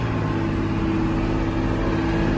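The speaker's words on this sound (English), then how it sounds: "That's wide open throttle in first." A Caterpillar IT28G wheel loader's engine held at wide open throttle in first gear, a loud steady drone with low harmonic hum running unbroken throughout, no talk.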